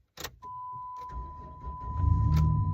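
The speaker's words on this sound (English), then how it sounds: "Starts the truck." A 2006 Dodge Dakota pickup cranks and its engine catches on a snowy day, with a steady electrical tone over the starter, then the idle settling into a loud, rising rumble close by.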